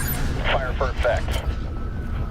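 Artillery strike in a video game, a few heavy booming blasts over a dense rumbling bed, with a voice speaking over the barrage.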